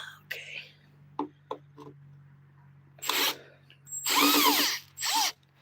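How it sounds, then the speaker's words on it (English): A handheld power drill running in short bursts, with whirring, whining spurts that grow longer and louder toward the end, between quieter handling noises and low talk. "Holding this drill with my left hand is a little bit of a challenge."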